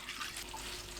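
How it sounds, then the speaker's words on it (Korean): Cold water splashes briefly over blanched seaweed being rinsed in a kitchen sink, a short, soft running-water wash close by. "초록색으로 변하면 바로 찬물에 두세 번 헹굽니다."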